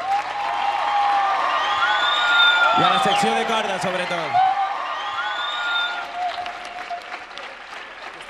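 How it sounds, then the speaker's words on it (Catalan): A concert audience applauds the band with broad, sustained clapping and crowd noise. A voice speaks over the applause partway through. "Un aplaudiment a la banda també"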